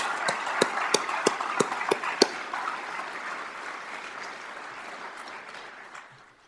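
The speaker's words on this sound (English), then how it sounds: "let's give it just an overall round of applause to our Academy 6 graduates and families" Applause rises for police academy graduates and their families at a graduation and swearing-in ceremony, opening with several sharp separate claps before a steady, fairly loud round of clapping that slowly fades toward the end.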